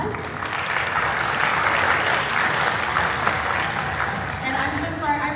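An audience at a summer strings camp concert applauds the viola section leader with steady, sustained clapping that continues at an even level for several seconds and thins slightly toward the end.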